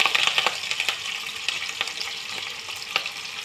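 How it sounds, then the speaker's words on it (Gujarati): Chopped capsicum and mixed vegetables sizzle steadily in hot oil, a continuous close frying hiss with a few soft stirring knocks and no voices. "તેલમાં હવે આપણે કેપ્સિકમ નાખીશું"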